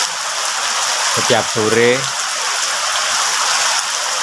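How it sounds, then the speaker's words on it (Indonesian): Heavy rain pours steadily on a rural village in Trenggalek, a dense, even hiss throughout, with someone speaking briefly over it. "saat ini hujan deras. Seperti ini."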